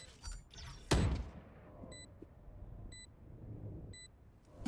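An alarm bot is placed in the game Valorant, giving a short thud followed by three evenly spaced high electronic beeps about a second apart, over faint in-game background noise.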